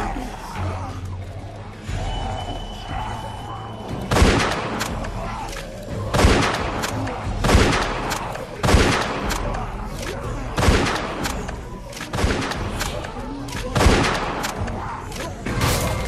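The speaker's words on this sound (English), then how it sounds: "It's shooting time." Gunfire in The Walking Dead video game, with a series of about nine sharp, booming shots spaced at roughly one- to two-second intervals over a rumbling background.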